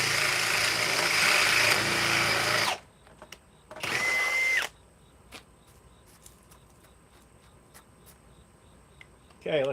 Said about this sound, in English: See, it's a nice hammer drill.